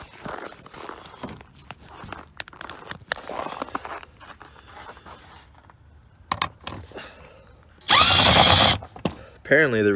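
A cordless impact driver zips briefly and loudly, once and then in a short second burst, removing screws during air filter replacement on a 2019 Ram 1500, after scattered handling clatter and someone talking.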